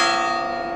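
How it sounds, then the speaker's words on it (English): A church bell in Porto, Portugal, rings loud and close in a single sustained stroke, its rich harmonic hum hanging evenly before cutting off. "That bell just rang so loud it scared me."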